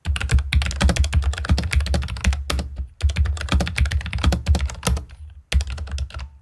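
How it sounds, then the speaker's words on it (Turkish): Fast, clacky typing on a Logitech G915 X TKL mechanical keyboard with 3.2 mm key travel, close and loud, in rapid bursts with two short pauses. "Şimdi bu mekanik bir klavye ve gerçekten sesi çok güzel."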